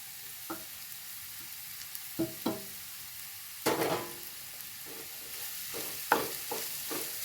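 Soft, quiet sizzle of onions frying in a pan, broken by several scraping clinks as a spoon stirs them at irregular intervals.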